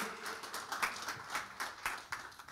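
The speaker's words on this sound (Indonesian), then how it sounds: "Berikan tepuk tangan yang lebih lagi." Applause from a church congregation at a Sunday service, a quiet, distant patter of scattered clapping that rises and falls in soft bursts.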